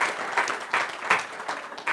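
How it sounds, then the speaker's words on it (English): Audience applause at a travel festival talk, moderately loud with several rhythmic swells of clapping that rise and fall across a couple of seconds. "We might have to do 2 claps."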